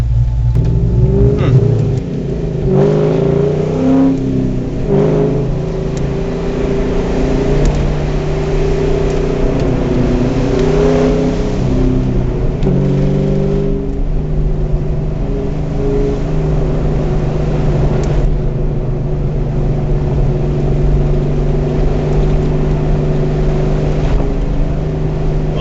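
A 1971 Chevelle with upgraded suspension revs its engine while driving, a loud, close, steady motor drone with rising and falling pitch sweeps as it accelerates and shifts, running continuously throughout.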